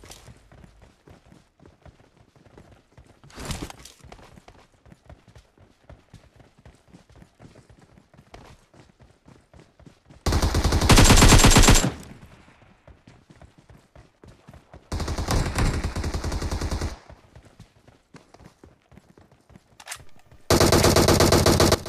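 Squad gunfire in a mobile battle royale shooter: three loud bursts of automatic fire, each a couple of seconds long, break out over a quiet stretch of soft footsteps, with no talking.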